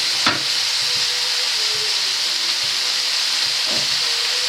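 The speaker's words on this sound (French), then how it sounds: "Mes lardons finissent donc de cuire." Bacon lardons for a crustless sauerkraut quiche finish cooking in a pan with a steady, close, broadband sizzle, a few faint clinks above it and no talking.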